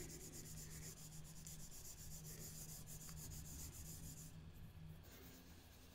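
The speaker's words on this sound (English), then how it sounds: "Let's give it a little more rubbing here." A walnut rubbed back and forth over a scratch in a wooden surface, a faint, soft, steady scraping friction with no voices.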